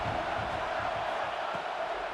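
A football stadium crowd roars in a steady, dense wash of noise, sustained without breaks and heard from a distance at low volume.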